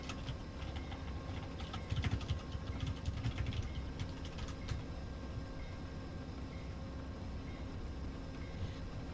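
Amtrak-style P42DC diesel locomotive in a TruRail train simulator game during a Chicago rainstorm, a steady rumbling rail drone with clustered mechanical clicks and rattles early on, continuous and moderately distant.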